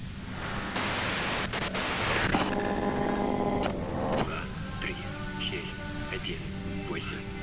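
Radio white-noise static from the video game Disco Elysium hisses loudly for a moment, then gives way to tonal radio sounds.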